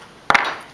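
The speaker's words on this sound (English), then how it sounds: "I want to use notcher." A hand notcher punches a notch into a paper skirt pattern: one sharp double snap followed by a short papery rustle, close and alone.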